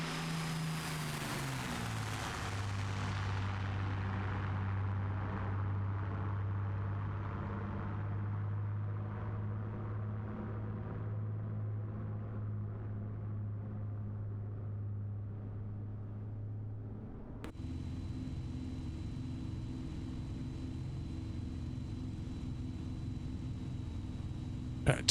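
Propeller aircraft engine at around 2600 RPM cruise in Microsoft Flight Simulator 2024, a steady low drone settling after a throttle change, then an abrupt shift to a different cabin engine hum near the end.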